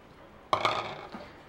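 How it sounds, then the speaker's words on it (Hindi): A metal kadai (wok) set down on a stove, two quick close metallic clanks followed by a fainter clink, in a quiet home kitchen. "अब मैं एक कढ़ाई चूल्हे पे रख रही हूँ।"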